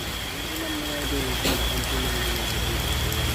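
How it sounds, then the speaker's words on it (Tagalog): Heavy rain pours down outdoors in a dense, steady hiss and patter, with a person speaking faintly beneath it. "Wow, lumakas pa yung ulan guys."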